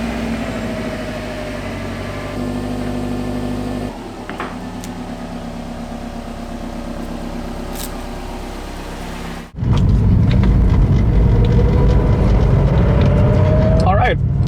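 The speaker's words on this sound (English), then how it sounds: "let's go for a quick test drive." A modified Subaru WRX STi on a quick test drive drones steadily from inside, then surges into a louder, rushing roar as it pulls away harder.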